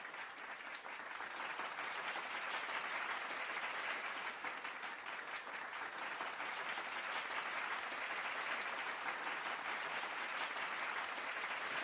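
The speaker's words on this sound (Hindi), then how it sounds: "तो आइए जोश और सम्मान के साथ जोरदार तालियों से स्वागत करते हैं हमारे सभी AD अचीवर्स" Applause welcoming award achievers at an achievement day celebration: continuous, even clapping from a large audience, sustained at a steady level with a faint, distant quality.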